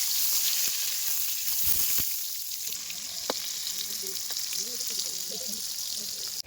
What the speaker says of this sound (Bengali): পটলটা দিয়ে দিচ্ছি, একবার দিলে ভাজা হবে না, আমি দুবার তিনবার দিয়ে মাছের মতো করে ভেজে নেব।